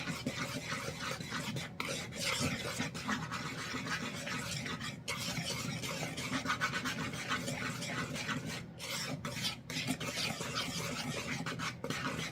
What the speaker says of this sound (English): whisk that around